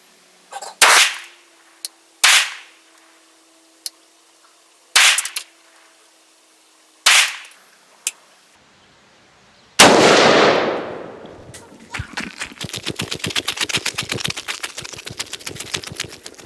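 Loud outdoor gunshots from an IWI Galil Ace 5.56 rifle firing lightweight frangible GBW Pro Trainer rounds, several spaced single cracks with short echoing tails, then a stretch of dense rapid crackling noise.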